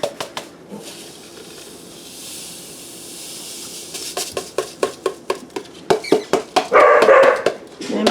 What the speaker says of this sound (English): And my dog's barking because I'm banging on the container.